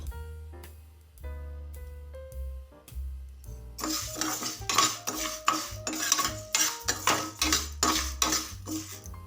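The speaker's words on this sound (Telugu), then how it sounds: "పెసరపప్పు వచ్చేసి కొంచెం కలర్ చేంజ్ అయ్యే వరకు వేయించుకోవాలి" Moong dal being roasted and stirred in a pan with a metal utensil, giving close, repeated scraping and clinking strokes that grow busier and louder partway through.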